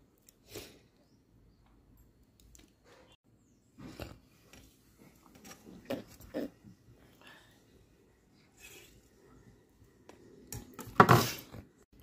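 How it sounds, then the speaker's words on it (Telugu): Knife scraping and cutting around the edges of dried homemade mango jelly set in a tray, giving a few short, sparse scrapes and clinks with quiet gaps between them and a louder cluster near the end. "సో ఈ నైఫ్స్ తోటి నేను ఎడ్జెస్ అన్నీ ఇప్పుడు కట్ చేసుకుంటున్నాను"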